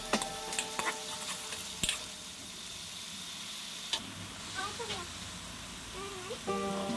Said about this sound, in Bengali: একটু গোটা গরম মশলা আর চিনি ফোড়ন দিয়ে পেঁয়াজ বাটাটা ঢেলে দেব